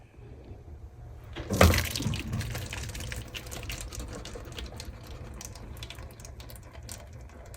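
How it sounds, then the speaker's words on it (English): Water from freshly cooked rice pours out through a strainer with a sudden loud splash, then settles into a steady, close trickle and drain. "So the rice is now ready to strain."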